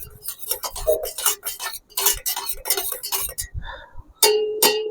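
A metal spoon stirs mint buttermilk sprinkled with coriander and curry leaves, giving irregular close clinks and taps against the vessel, with no talk.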